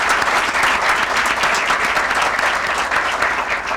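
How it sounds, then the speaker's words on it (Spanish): Audience applause fills a hall at a book launch, a dense, steady wash of many hands clapping at full volume for the whole stretch, with no voices over it. "yo les pido al auditorio que le brindemos un fuerte aplauso"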